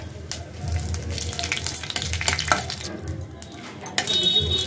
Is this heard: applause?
no